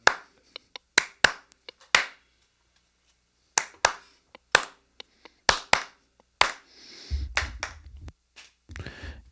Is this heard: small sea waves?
no